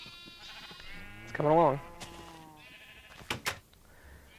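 Sheep in a survival video game give a short wavering bleat and then a few fainter cries, close by, while someone talks over them.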